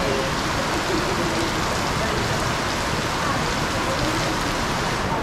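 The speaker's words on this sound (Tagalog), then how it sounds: "Pahulawin muna natin ang malakas na ulan na yan bago tayo umuwi" Heavy, steady rain pours down continuously, a dense hiss of water with no breaks and no voices.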